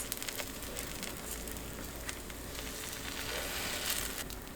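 Johnny cakes frying in a pan, a dense, steady crackling sizzle that fills the whole stretch at an even loudness, close up with no voices.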